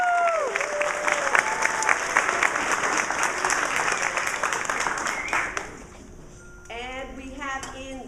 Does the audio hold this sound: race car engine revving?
no